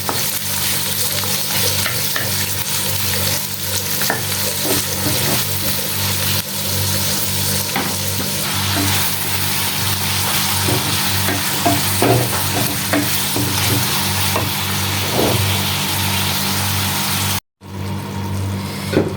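Onions fry in a pan for egg bhuna, making a loud, continuous close-up sizzle with a low hum beneath and occasional stirring knocks, broken by one short gap near the end.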